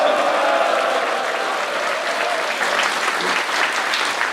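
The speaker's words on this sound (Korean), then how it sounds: "크게 축하 박수 한번 보내주시고" A crowd at a book launch event for a former vice minister claps loudly and steadily, with dense applause filling the hall from start to finish.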